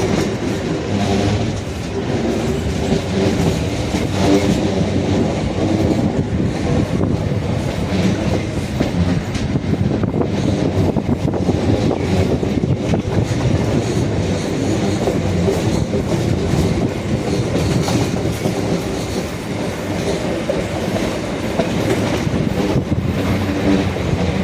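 An MRTS EMU commuter train runs toward Chennai Beach with a continuous loud rumble from the carriage and a steady clickety-clack of wheels on rail joints, heard from inside the train with no talking.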